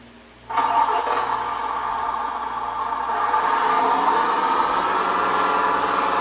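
A Tamiya 1/14 Grand Hauler Peterbilt RC dump truck with a two-speed gearbox drives in first gear. Its electric motor kicks in abruptly and then whines steadily and close by for several seconds, with no talking.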